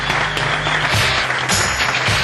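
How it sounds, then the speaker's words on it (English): A startup event audience in Barcelona applauds to welcome a speaker on stage, dense clapping from many hands, loud and steady for a couple of seconds. "huge startup round of applause to welcome Pere Vallès on stage"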